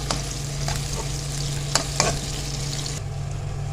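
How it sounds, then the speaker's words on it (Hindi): Whole cumin seeds and chillies sizzle steadily in hot oil for a tempering, a continuous close frying hiss with a few brief stirring scrapes and no voices. "और इसमें डाल देंगे हम 1 टीस्पून ज़ीरा साबुत और इसको हम थोड़ा सा फ्राई करेंगे"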